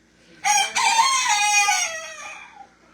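A rooster kept with backyard hens crows once, close and loud, a full cock-a-doodle-doo lasting about two seconds that tapers off at the end, with no talking over it.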